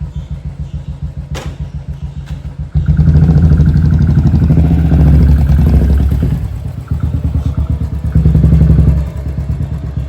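A Royal Enfield Bullet motorcycle pulls up close by, its loud thumping single-cylinder engine idling, then revving up and settling back to a steady, throbbing chug, with no voices.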